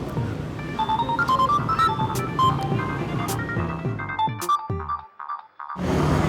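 A mobile phone ringtone plays a bright repeating melody, fairly loud and close, in a tense scene before the ringing cuts off into silence.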